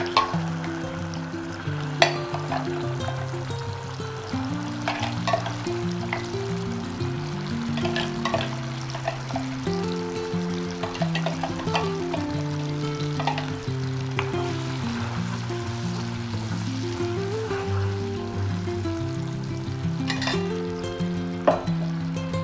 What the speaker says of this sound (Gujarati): હવે આપણે બીજી એક કઢાઈમાં તેલ ગરમ કરવા મૂકીશું. એમાં આપણે આ પીસીને રાખેલી ગ્રેવી એડ કરીશું.